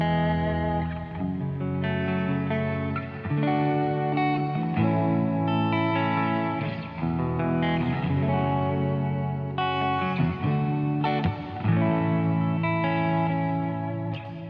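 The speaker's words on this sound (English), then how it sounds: "Now here's the Space Force equivalent of that with their pitch reverb." Space Force reverb pedal set to its pitch reverb, washing a sustained chordal instrument in shimmering, pitch-shifted ambience, continuous and dense with no talking.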